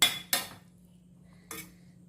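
A spoon clinks and scrapes in a pan of malai chicken gravy, three short metallic strikes separated by pauses over a low steady hum.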